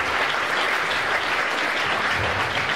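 A church congregation applauds steadily and loudly, a dense, continuous wash of clapping with no talk over it.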